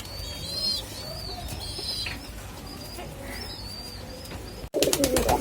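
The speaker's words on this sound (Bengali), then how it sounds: "এখন দেখাচ্ছি আপনাদের 1 পেয়ার চীনা কামাগার নিউ অ্যাডাল কবুতর" A pair of adult Chinese Kamagar pigeons cooing nearby, several soft repeated coos spread through the stretch, followed by a sudden burst of fluttering wings near the end.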